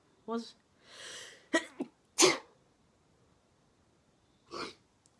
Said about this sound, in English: I can't be sneezing again.